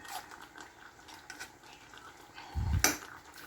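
A metal lid is set onto a cooking pot of chicken asado in a home kitchen, a single short clatter after quiet faint background rustling.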